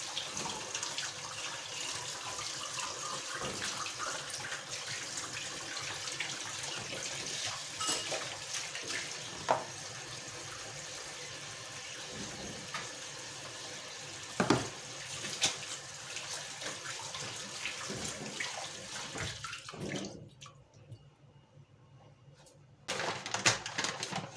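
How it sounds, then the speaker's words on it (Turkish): Running tap water splashes steadily into a kitchen sink as hands are washed, with faint clinks of dishes and cutlery, close and fairly quiet, cutting off briefly near the end before flowing again. "Ellerimi yıkayayım ben."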